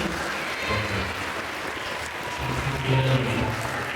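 A crowd claps steadily for several seconds, a dense patter of applause with some voices mixed in underneath.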